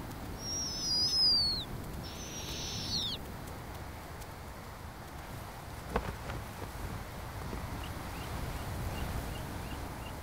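Snowy owls calling as a family moves toward the coast: two short, fairly loud calls in the first few seconds, then only steady outdoor background noise with no further calls.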